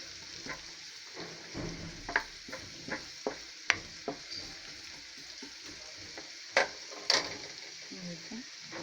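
Onions soften in a pan for stuffed masala chillies with a faint, low sizzle, broken by scattered clinks and scrapes of stirring at close range.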